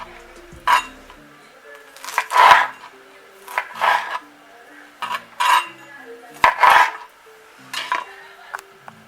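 A knife cutting through an orange with its peel on, making a series of separate crunching cuts and knocks against a board, evenly spaced and close up with quiet pauses in between.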